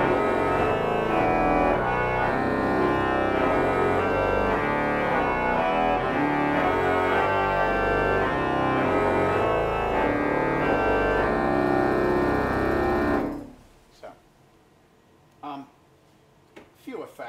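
A massive, low, sustained pipe organ sound from the full pedal division holds deep tones for several seconds, then cuts off, leaving reverberant hall decay and some faint talk.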